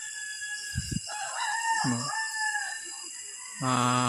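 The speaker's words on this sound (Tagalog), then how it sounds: "Yung manok dito, mga tumatilaok na" A rooster crows at a distance, then another crow rings out louder and closer near the end, over a steady background hum and faint clucks.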